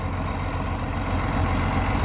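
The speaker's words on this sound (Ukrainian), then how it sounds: "Такий манюсенький тракторець." A small tractor engine idles steadily nearby with a low, even rumble and no voices.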